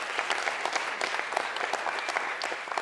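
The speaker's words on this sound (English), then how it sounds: "So give her a round of applause as she takes the stage." Audience at a ski and snowboard community event applauding a speaker taking the stage, a steady wash of many hands clapping continuously, moderately loud and sustained throughout.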